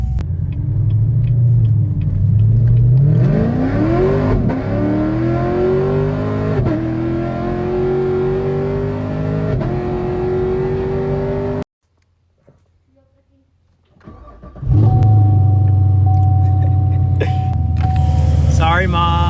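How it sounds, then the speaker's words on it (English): Chevrolet Camaro engine fitted with a new starter cranks and fires, then revs in rising and falling swells, loud and close, with a brief quiet cut before the engine roars again. "Let's see how good it starts up. New starter. Oh, way better. Even sounds different."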